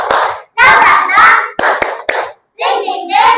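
A fifth-grade class performs a rhythmic 'tepuk semangat' clapping chant, sharp claps punctuating bursts of children's voices chanting together up close, with brief pauses between phrases.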